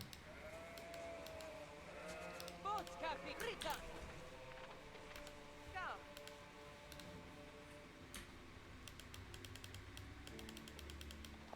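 Sheep bleats sound from a video game, several short calls bunched together near the start and middle over a busy game soundtrack with ticking, while people talk throughout.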